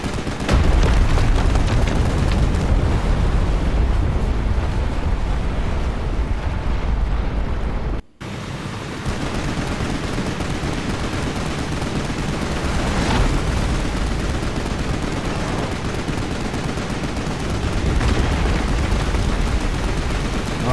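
Shooting at an enemy in Final Fantasy XV's Prompto episode: loud, sustained gunfire and booming blasts roar almost continuously, dropping out briefly for a moment before the barrage resumes at full strength.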